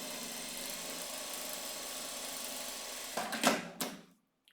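A sewing machine stitches a seam on a cosmetic bag with a steady, fairly quiet motor hum, then slows with a few louder rattles before stopping.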